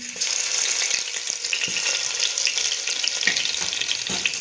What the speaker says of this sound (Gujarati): હવે આપણે આમાં લસણ એડ કરી દઈશું.